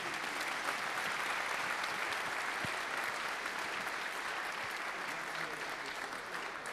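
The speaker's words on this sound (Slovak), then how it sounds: "veľký potlesk, no samozrejme." An audience at an evening celebration gives sustained, dense applause that holds steady and loud throughout.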